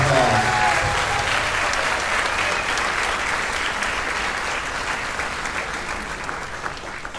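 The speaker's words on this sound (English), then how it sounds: "So everybody turn around and give George a quick round of applause" A concert audience applauds at a spring concert, a dense, steady wash of many hands clapping that carries on evenly for several seconds with no break.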